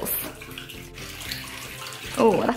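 Liquid bubble bath is poured slowly into a filled bathtub, a steady soft splashing and trickle that swells louder near the end, with no voices.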